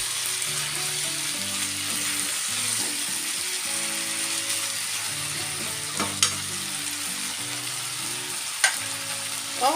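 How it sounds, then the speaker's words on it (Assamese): Goat mutton sizzles steadily in a pan over low heat, a continuous frying hiss with a faint hum underneath and a few sharp clicks near the end. "গেছৰ ফ্লেমটো কম কৰি এনেকৈ ভাজি ভাজি ল'ম"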